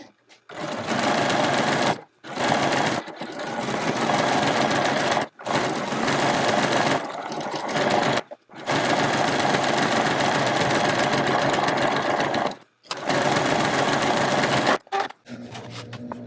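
A sewing machine stitches an appliqué onto a Halloween trick-or-treat bag in several loud, steady whirring bursts separated by short pauses, with brief quieter moments near the end.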